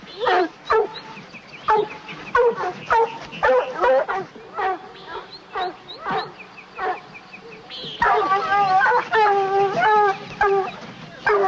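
Several hounds bark and bay excitedly while chasing a cougar outdoors, with sharp repeated yelps at irregular intervals, growing denser and more frantic toward the end.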